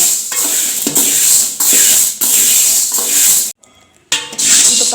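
Green gram lentils are stirred while dry-roasting in a pan, giving a loud, continuous gritty scraping and rustling in repeated strokes, broken by a brief near-silent pause before resuming.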